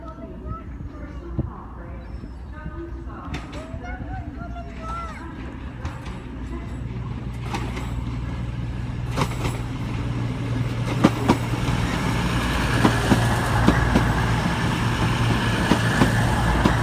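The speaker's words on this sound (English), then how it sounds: "coming in now is a cross-country service to Edinburgh" CrossCountry Voyager diesel unit pulling into Exeter St David's on a service to Edinburgh, a steady low engine drone and rumble building as it approaches, with rail clatter and squeal over station ambience and a voice talking.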